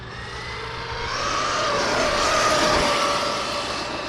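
An Arrma Kraton 8S RC car with a 780kv motor runs at full throttle, a high electric whine that swells louder and rises in pitch as it passes close by, then fades slightly.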